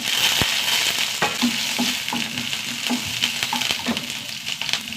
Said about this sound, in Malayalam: ചൂടാകട്ടെ കുറച്ച് കടുക് ചെറിയ ഉള്ളി കറിവേപ്പില